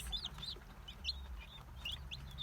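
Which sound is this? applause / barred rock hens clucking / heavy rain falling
barred rock hens clucking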